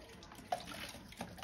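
A dog drinks water from an outdoor tap, heard as faint, steady running water with small splashy blips close by.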